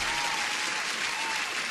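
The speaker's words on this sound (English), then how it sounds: "And a huge applause." Crowd applause fills the whole stretch, a steady dense wash of many hands clapping together at even loudness with no voices standing out.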